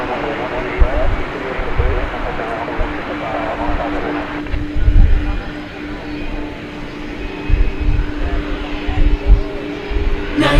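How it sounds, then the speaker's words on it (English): A UPS MD-11 tri-jet airliner departs DFW Airport at night, its engines a broad, steady roar that swells and rumbles with gusty low-end surges, while a voice talks over it. "27-year-old MD-11 off to Louisville"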